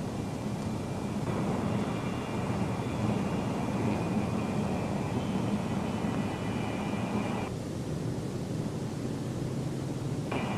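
A six-engined B-47 Stratojet jet bomber taking off, a loud steady broadband jet roar that holds throughout with a faint high whine that drops out near the end, with no voices.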